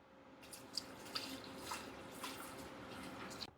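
Water runs and splashes steadily into an open hydroponic reservoir as it is pumped in for a first fill, with a continuous broadband rush and a few faint drips and plinks.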